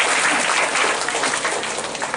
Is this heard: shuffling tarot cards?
no